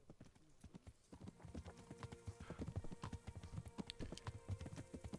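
A horse's hooves clip-clop steadily in the Kingdom Come: Deliverance video game. The quick, even footfalls start faint, then grow fuller and continue under soft ambient game sound.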